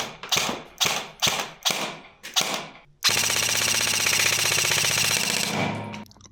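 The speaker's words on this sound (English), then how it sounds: "When firing the replica, it just doesn't sound right" A Krytac Mark III airsoft replica whose gearbox needs reshimming fires several short, sharp bursts at close range, followed by a loud, continuous full-auto string lasting about three seconds.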